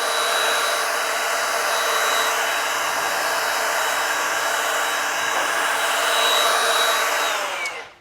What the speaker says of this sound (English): This is the flex blower,